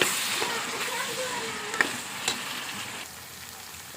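Ivy gourd and onions frying in a pan, a steady close sizzle with a few faint stirring clinks and scrapes.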